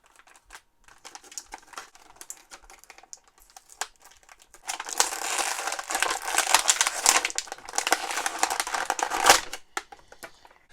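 A McFarlane Toys DC Multiverse Batman action figure is worked free of its plastic packaging, with light clicks at first, then a sustained burst of close, crinkling plastic rustling and crackling.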